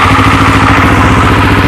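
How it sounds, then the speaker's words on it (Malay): A Morbidelli F252 motorcycle engine idles loudly and close, a steady low throbbing rumble with an even, rapid pulse. "Ok, so ini bunyi idling dia."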